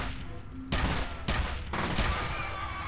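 Gunfire in the shooter FEAR: three heavy bursts of shots, each a sharp loud onset followed by a sustained crackling roar, alone without talk.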